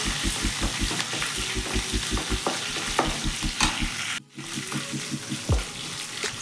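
Ivy gourd frying in a pan, a loud close sizzle with a regular scraping rhythm of stirring, a brief pause midway, then continued sizzling and stirring.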